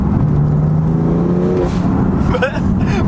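BMW M4 fitted with a new aftermarket exhaust, engine note rising and holding loud and close in a steady drone, with someone speaking over it.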